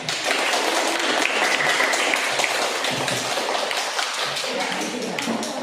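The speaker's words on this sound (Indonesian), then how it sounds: "Mari kita beri aplaus untuk kelompok 2" A group of people clapping for a presenting group in a classroom session, dense, steady applause filling the whole moment, loud and close, with no pause.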